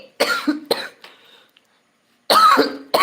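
Harsh, loud coughs close by: a pair of quick coughs, a weaker one, a short silence, then another heavy cough.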